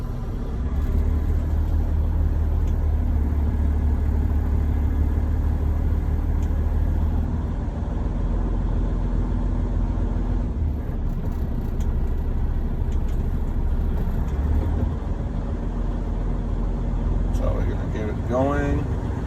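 A truck diesel engine idles steadily to build air brake pressure before an in-cab CDL-A inspection, a continuous low rumble filling the whole stretch, with brief speech near the end.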